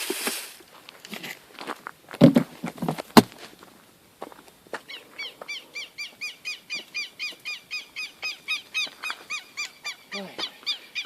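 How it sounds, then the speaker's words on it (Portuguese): Small birds chirp in a quick, regular series of bright repeated calls near a camp by a boat, following a few louder rustling thumps and clatters at the start. "Como é que é o nome desses passarinhos"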